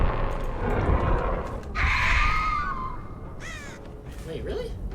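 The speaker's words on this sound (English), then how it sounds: "Give me birds." Crows caw in the game Dead by Daylight with several loud, harsh calls and a flurry of wing noise over a noisy background, while a voice talks.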